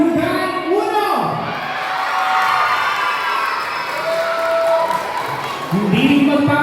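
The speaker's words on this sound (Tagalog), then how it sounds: "Kailangan itodo nyo ang sigawan at palakpakan" Crowd cheering, shouting and clapping at a barangay street dance competition during the Julugan fiesta in Tanza, Cavite, a sustained loud roar with whoops and children's shouts, a voice talking over it near the end.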